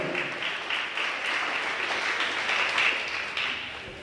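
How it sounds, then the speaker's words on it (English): Steady audience applause in a gym during player introductions at a college volleyball match, a moderately loud wash of clapping throughout with no clear voices on top. "How about another round of applause for Cameron Rasmussen"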